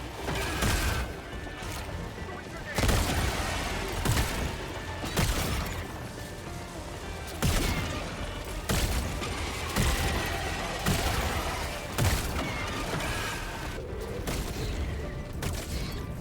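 Purifier weapon firing at Hive Guards in Helldivers 2, loud repeated charged blasts at irregular intervals over a dense rumbling battle din.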